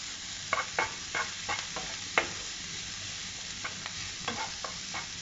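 Vegetables with pepper powder cooking in a pan, a soft steady sizzle with a series of scraping stir strokes, close and fairly quiet, no talking.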